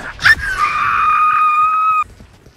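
A person screams during a Valorant match, one sustained, piercing high-pitched shriek lasting about a second and a half after a short rising yelp, loud and close, then cutting off abruptly.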